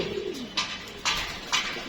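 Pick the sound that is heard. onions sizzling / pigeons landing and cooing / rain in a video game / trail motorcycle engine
pigeons landing and cooing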